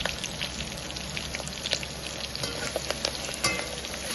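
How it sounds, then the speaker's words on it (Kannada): Onions, curry leaves, cloves, cinnamon and cardamom sauté in oil for mushroom biryani, producing a dense, steady sizzle and crackle with light spatters throughout. "ಸ್ವಲ್ಪ ಹೊತ್ತು ಬಾಡಿಸ್ಕೊಳ್ಬೇಕು ಈ ರೀತಿ ಎಣ್ಣೆಯಲ್ಲಿ"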